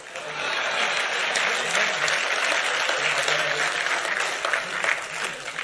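A large audience breaks into sustained, loud applause at a political speech, a dense wash of clapping that holds steady for several seconds.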